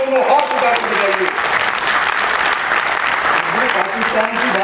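A large audience at a comic poetry gathering in Ankleshwar, Gujarat, claps loudly and continuously with hands raised, the steady applause overlaid by a speaking voice at the start and end.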